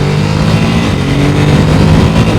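A Ducati Supersport S motorcycle engine drones steadily and loudly from close by, revving with a quick-shift change and a little overrun, a continuous throaty tone with no one talking.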